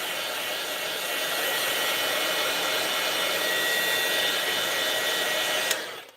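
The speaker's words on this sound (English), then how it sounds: "So I'm going to bring in my heat tool" An embossing heat tool blows with a steady loud whooshing hum, running continuously before clicking off abruptly near the end.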